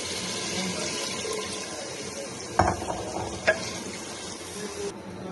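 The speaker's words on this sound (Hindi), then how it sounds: "अब हम इसमें पानी डालेंगे।" Water pours steadily into a cooking pot of dal mash with a rushing, bubbling sound, broken by a couple of sharp metallic knocks.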